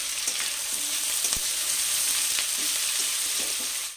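Mixed vegetables with ridge gourd frying in oil, giving a continuous close sizzle with a few faint stirring knocks; no voices.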